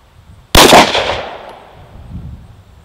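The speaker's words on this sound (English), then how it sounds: "we're continuing with the Sig 115 grain full metal jacket with a bone stock Glock 19" A single sharp, loud gunshot from a stock Glock 19 pistol firing Sig Sauer 115 grain 9mm full metal jacket ammunition, close by, followed by a fading echo and quiet.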